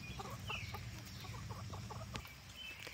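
Chickens cluck in short, scattered bursts at moderate distance over a steady outdoor background hum.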